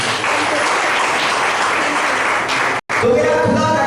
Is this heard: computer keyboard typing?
no